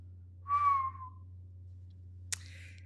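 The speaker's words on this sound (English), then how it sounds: "y'all hear my whistle?" A single clear, falling whistle note from a person, followed shortly by a brief sharp click, in an otherwise quiet room.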